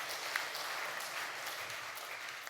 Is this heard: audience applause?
yes